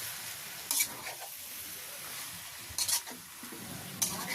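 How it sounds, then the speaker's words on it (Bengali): Small pieces of snakehead fish sauté with spices in a pan, a soft sizzle broken by three brief bursts of stirring scrapes, near and fairly quiet, with no talking. "মশলা দিয়ে মাছটা সুন্দর করে কষাই নিলাম"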